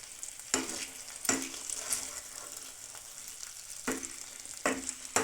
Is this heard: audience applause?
no